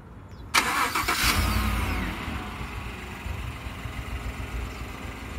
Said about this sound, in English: You have some nice features on this truck, including a remote start.